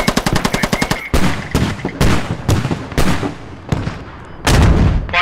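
A PKP machine gun firing in the military shooter game Squad during an assault on a fortified base, rapid loud bursts of automatic fire close by, followed by several heavy booming shots and echoing impacts.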